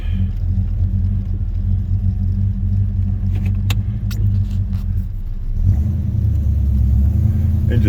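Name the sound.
1976 Oldsmobile Cutlass Salon 455 engine running cold on a drive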